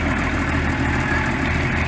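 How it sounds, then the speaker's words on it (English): A vintage Commer forward control lorry runs on its Humber Hawk petrol engine at a commercial vehicle rally, a steady close rumbling idle with even low-pitched throb and no speech. "that's the petrol engine there"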